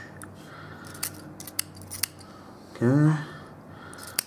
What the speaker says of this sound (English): with a pair of scissors, I'll turn this thing upside down like this, and I'll just snip this excess wick off